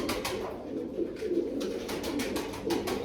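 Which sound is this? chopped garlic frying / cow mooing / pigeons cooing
pigeons cooing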